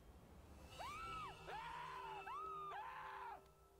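A character in the video game The Quarry screams in a series of three or four long, rising-and-falling shrieks back to back, loud and alone over a quiet game background.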